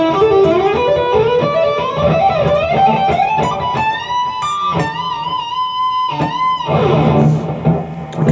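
An electric guitar plays the solo section of Rock You Like a Hurricane by the Scorpions, a close, sustained lead line of bends and slides with ringing held notes, played alone.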